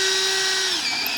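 Power drill whining steadily as it bores through hard wood, a close, loud continuous tone that dips slightly in pitch near the end.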